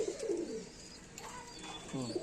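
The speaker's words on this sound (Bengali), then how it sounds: "এটা একটা নাপ্তা পায়রা সাহারানপুরি, খুবই ভালো জাতের।" A Saharanpuri pigeon of the Naptha type coos nearby, a low rolling call at the start and another near the end of a brief stretch.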